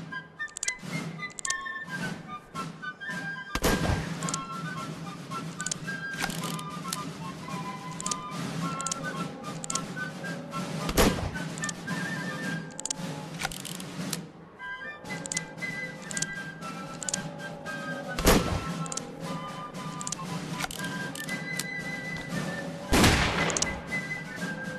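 Black powder guns firing in the Roblox Wild West game, with sharp reports recurring every few seconds over a steady background of game ambience, plus a few brief whistling tones and faint echoes.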